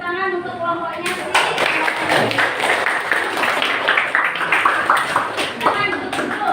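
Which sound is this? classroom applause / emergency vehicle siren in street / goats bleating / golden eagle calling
classroom applause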